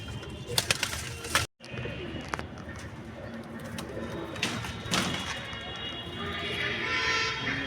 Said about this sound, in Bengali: আমি পায়রা দুটোকে এখন ছেড়ে দেবো